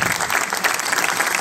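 An audience at a medieval and Renaissance festival closing ceremony claps steadily, dense even applause heard alone and close.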